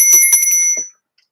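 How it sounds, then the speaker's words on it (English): A small bell rung before a tarot reading chimes in a few quick, bright strikes, then rings on for a moment and fades, with a faint soft sound just after. "We'll just ring the bell."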